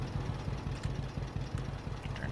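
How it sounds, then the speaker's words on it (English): Low, steady engine idle of a John Deere A tractor in Farming Simulator 22, a rhythmic chugging pulse running continuously at moderate level with no one talking. "turn this tractor off."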